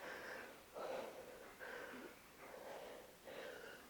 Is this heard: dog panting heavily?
yes